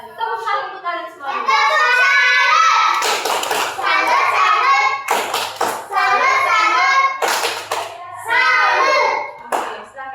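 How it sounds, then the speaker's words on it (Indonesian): Children in a classroom clapping in bursts of quick rhythmic hand claps, loud and close, alternating with children singing and chanting together between the rounds of applause. "Tepuk tangan untuk kalian semua."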